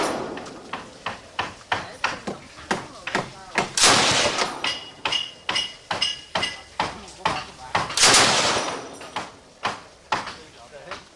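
A big gun fires rounds on the range at the Cu Chi tunnels, more than a dozen loud sharp cracks at fairly even intervals, each with a ringing tail, and people talk in between.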